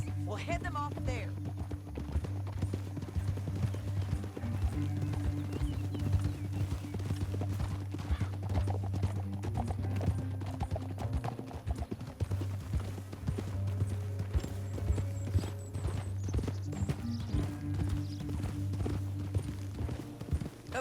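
Horse hooves clip-clop steadily through a canyon in Red Dead Redemption 2, a continuous rhythmic galloping beat under a low engine-like drone, with a horse's whinny near the start and characters talking over it.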